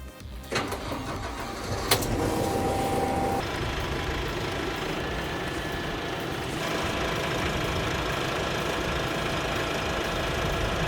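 A KIY 90 hp tractor fitted with an NT-1500 front loader, its diesel engine cranking and catching with a sharp burst, then settling into a steady mid-pitched idle that runs on evenly and loud.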